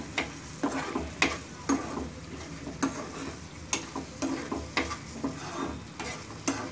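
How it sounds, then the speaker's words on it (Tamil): Pirandai thokku cooking in sesame oil, a soft sizzle with rhythmic scraping and stirring strokes about once a second, close and fairly quiet. "இது நல்லா கொதிக்கணும்."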